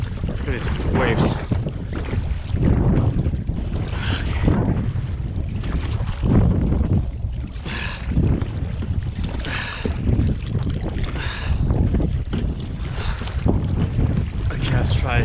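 Waves slosh and splash against a kayak on Puget Sound amid gusty wind noise on the microphone, continuous and close, with occasional voice sounds.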